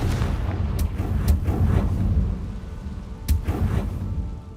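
Confringo spell explosions in Hogwarts Legacy, a few low rumbling booms with sharp cracks at the start of each, loud and close, no talk.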